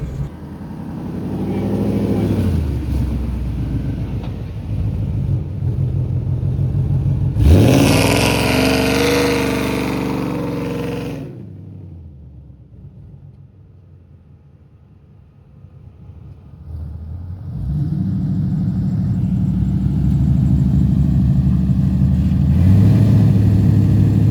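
Street cars drag racing in Mexico, with loud engines revving and accelerating hard, then fading as a car pulls away before engine noise builds up close again.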